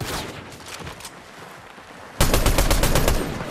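A rapid burst of automatic gunfire with heavy recoil from an SKS-like rifle in a shooting video game, loud and close. It starts abruptly after quieter background sounds and fires as a fast, even string of shots.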